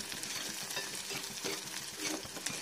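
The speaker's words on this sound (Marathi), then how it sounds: "फ्राय होत असताना सतत ढवळत राहायचं" Sliced onions and green chillies frying for poha are stirred continuously in a pan, a soft steady sizzle broken by frequent scraping strokes of the spoon, no talking.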